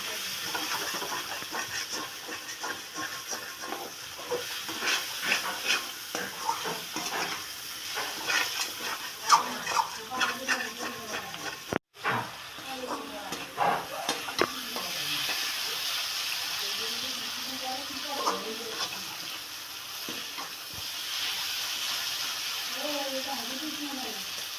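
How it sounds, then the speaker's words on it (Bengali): Spices sizzle in a hot pan with a steady, hissing fry that runs throughout, while a person talks over it in the background. "এখন মশলাগুলো ভালো করে ভেজে নেব"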